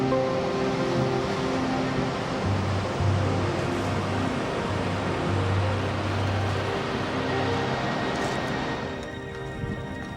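An icy cold river full of snow-melt water rushes steadily in a broad, even hiss, with a faint low hum beneath it before the sound thins near the end.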